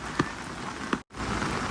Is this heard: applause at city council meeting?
no